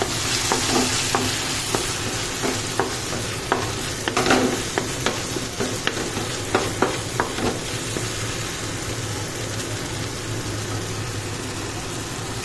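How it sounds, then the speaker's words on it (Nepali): A tomato and pea pickle is stirred in a pan after coriander and chili go in, giving repeated scraping and clacking strokes over a steady low sizzle, close and moderately loud, with no talking. "अब धनिया र खुर्सानी एड गरेपछि यसलाई राम्रोसँग चलाउँछौँ"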